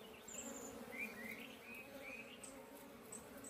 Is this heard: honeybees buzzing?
yes